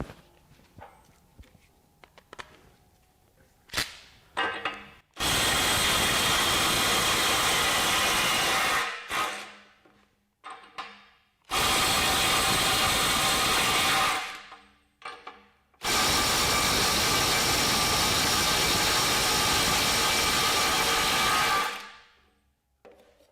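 A DeWalt compact impact wrench tightening to 300 foot-pounds gives three long, loud hammering bursts of several seconds each, with short pauses and small clicks and handling noises between them.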